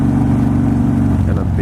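Honda cars pass close by on a street near Sunset Cliffs, a loud engine hum and road noise with a slight rise in revving toward the end.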